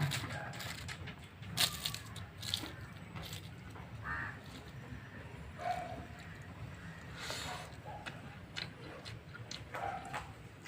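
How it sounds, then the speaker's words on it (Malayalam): Crisp crackling and snapping bursts of pappadam being crushed by hand at a festive Onam sadhya meal, several scattered brittle cracks over a quiet room background. "അപ്പം കഴിച്ചു തുടങ്ങാം പപ്പടം പൊടിച്ച്"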